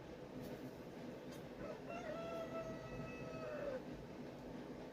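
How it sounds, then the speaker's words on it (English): A single rooster crows outside, a faint, distant, drawn-out call rising then falling over quiet background hiss, no voices. "my rooster is crowing outside"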